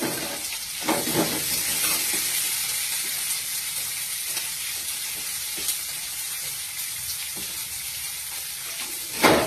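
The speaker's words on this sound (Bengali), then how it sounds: "পেঁয়াজ কুচিটা খুব ভালোভাবে একটু ভাজা ভাজা হতে হবে।" Chopped onion sizzles in hot oil in a kadai, a steady close frying hiss with occasional stirring scrapes and no talk.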